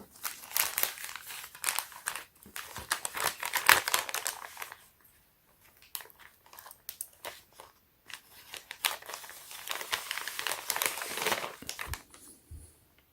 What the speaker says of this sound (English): let's go ahead and get this unwrapped.